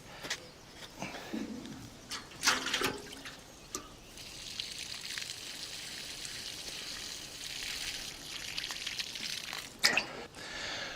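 Water splashes and trickles onto soil around a newly planted garden plant, a steady outdoor pour with a few louder spills and birds calling faintly in the background.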